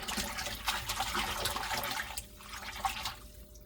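Spinach leaves are swished and rubbed by hand in a basin of water, making close splashing and sloshing sounds in uneven bursts, with no talking.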